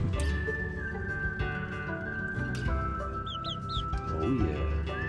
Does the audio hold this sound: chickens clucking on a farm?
yes